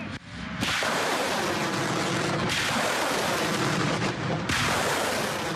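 An Uragan multiple rocket launcher fires a salvo in the field, rendered as loud, dense roaring blasts that surge in repeated waves, with one rocket launch rolling into the next and no talk.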